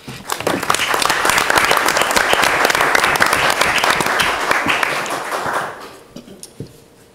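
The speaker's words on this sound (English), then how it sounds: "that deserves a round of applause" A school board meeting audience breaks into enthusiastic applause, many hands clapping densely for several seconds before tapering off into scattered claps.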